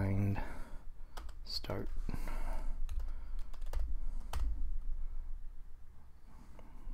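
Typing a command on a computer keyboard at a Raspberry Pi terminal, a run of quick, close key clicks in uneven bursts, with a person speaking briefly over a steady background hum.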